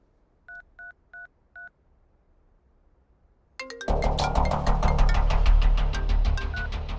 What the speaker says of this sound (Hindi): अनिल को फोन लगा।